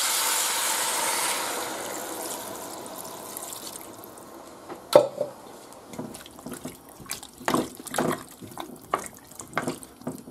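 Water poured into a cooking pot for Castilian potatoes, a steady rushing pour for about four seconds, followed by scattered clinks and knocks of kitchenware.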